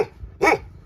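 A dog on a pig and duck farm in Ukhrul district gives one loud, close bark, with faint rumbling before it and no talking.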